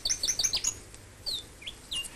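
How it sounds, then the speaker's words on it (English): A noisy scrub-bird, a small, solidly built bird, calls with a run of loud, ringing chirps that rise and fall, followed by a few separate sweeping whistles, clear and fairly close in quiet surroundings. "The noisy scrub bird is small and solidly built, but can fly only short distances."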